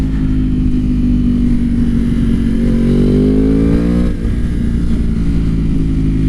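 Motorcycle being ridden, its engine droning loud and close with a rising pitch as it accelerates, then settling back, under constant wind and road noise throughout.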